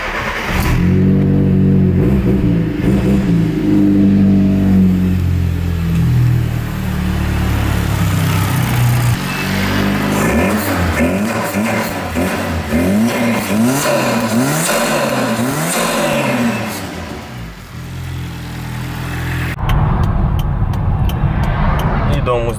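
An old car's engine is cranked and fires up, then revs repeatedly in rising and falling surges, loud and close, while people talk over it.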